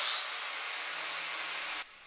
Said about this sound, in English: I then started to prep these pieces for welding using an angle grinder with a flap disc